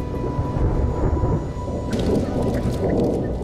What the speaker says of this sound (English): An afternoon thunderstorm rolls across the mesas outside of town as Officer Farrell Yazzie heads out on patrol